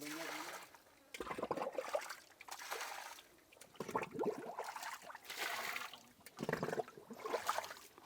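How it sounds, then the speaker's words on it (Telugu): Water gushes out of a tunnel beneath a Shiva temple in surges, several loud rushing bursts with quieter gaps between them, close by. "అక్కడ లోపల నుంచి మీకు వాటర్ ఆ సొరంగంలో నుంచి బయటకు వస్తుంది."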